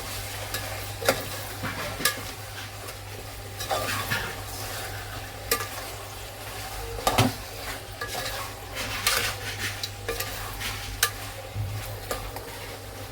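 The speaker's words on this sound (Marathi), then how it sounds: "व्यवस्थित तेल सुटेपर्यंत परतायचं." Chicken sautéing in oil in a pan, with a steady close sizzle under repeated scraping stir strokes and occasional clinks of a utensil against the pot.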